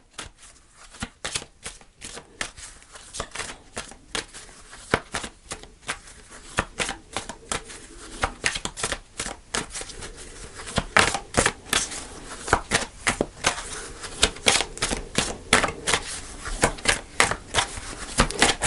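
Tarot cards being shuffled by hand, a long run of crisp, rapid riffling snaps and flutters in uneven bursts, close and fairly loud, with no talking.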